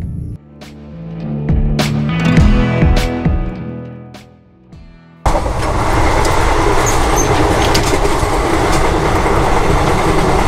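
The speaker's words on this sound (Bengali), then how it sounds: "বন্ধুরা, আমার ট্রেন খুব দ্রুত গতিতে এগিয়ে চলেছে।" An Indian passenger train runs fast on its tracks. First comes a rhythmic clatter of wheels with tonal rail squeals, then a sudden jump to a loud, dense, steady rushing roar close by, with no voices.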